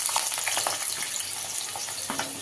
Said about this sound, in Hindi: आलू बैगन को। और इसको हम चलाते हुए अच्छे से फ्राई कर लेंगे